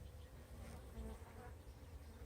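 Honeybees buzzing in an opened hive, a dense continuous drone from many insects close by, soft and steady throughout.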